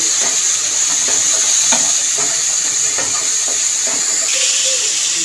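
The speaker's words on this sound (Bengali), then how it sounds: "দিয়ে মশলাটাকে ভালো করে কষিয়ে নেব।" Ground cumin, coriander, turmeric and chili paste fried in oil for fish head curry gives a loud, dense, continuous sizzle and hiss with faint repeated stirring scrapes beneath it.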